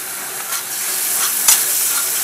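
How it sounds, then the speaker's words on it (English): Spicy herb-and-spice sauce fries in a little vegetable corn oil for a pambazo sandwich, a loud, dense, continuous sizzle close up, with a brief stir or scrape partway through. "The secret to the sandwich is not just heating the sauce, but to actually fry it with a little bit of vegetable oil, corn oil."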